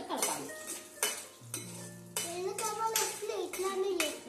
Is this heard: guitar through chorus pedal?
no